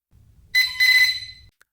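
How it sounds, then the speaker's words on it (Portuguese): An LED panel stopwatch timer gives a single electronic beep at the ten-second mark, a clear tonal chirp lasting about a second, alone in quiet. "quando faz 10 segundos redondos, ele emite o bip"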